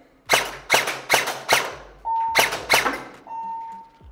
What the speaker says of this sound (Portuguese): Vou dar uns tiros no semi ali agora.